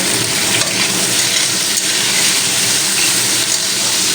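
Malabar spinach stems frying in oil with a little salt, a loud, steady, dense sizzle that runs unbroken and close throughout, with no talking.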